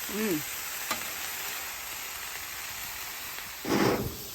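Garlic and potatoes fry on a Blackstone griddle, giving a steady broadband sizzle and hiss throughout, with a brief stir or scrape near the start and a louder burst of sizzling toward the end.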